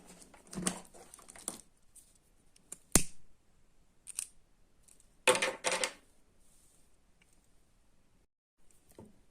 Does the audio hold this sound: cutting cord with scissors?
yes